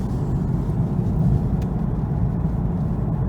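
A Porsche 911 with a PSM fault cruising in third gear at a steady low speed, its engine giving a constant close rumble throughout with no voices.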